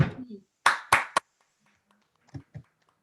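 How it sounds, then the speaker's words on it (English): A few isolated sharp claps ring out during an online sales recognition session, three quick near claps followed by two more after a pause, with a voice speaking briefly at the start. "And then I'll give him a big clap."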